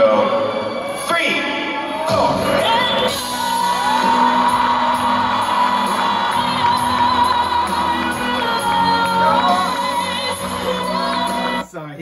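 A large concert crowd cheering, whooping and screaming loudly and continuously, dense and close, swelling after an opening bang and holding for several seconds before cutting off.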